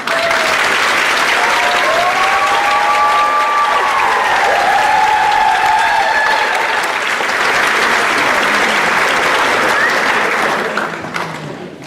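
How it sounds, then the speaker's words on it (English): Sustained, loud applause from a large crowd honoring nursing faculty at a health professions pinning ceremony, steady for several seconds with some cheering voices before it tapers off at the end. "let's give them a round of applause."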